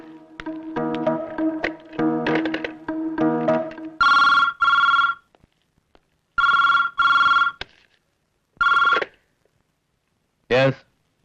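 A telephone rings in repeated double bursts of bright electronic trilling after a stretch of music at the start, with a short rising chirp at the end and quiet gaps between rings.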